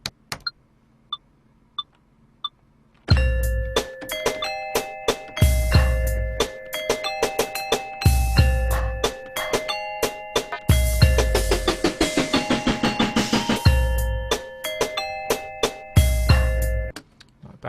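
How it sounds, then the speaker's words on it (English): Layered electronic bell tones from a virtual beat maker play a looping pattern: bright struck notes in a steady rhythm over a heavy kick-like pulse, loud and close, with faint sparse pings before the beat enters. "Maybe fill it in a little bit more with another layer of these bells, but higher."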